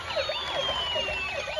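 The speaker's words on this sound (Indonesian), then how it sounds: "ambulans kuning dan putih kita jalankan" A yellow and white toy ambulance sounds its siren, a steady warbling electronic wail repeating in quick cycles, close by and loud with no voices.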